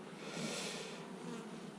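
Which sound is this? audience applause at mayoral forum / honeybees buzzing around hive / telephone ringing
honeybees buzzing around hive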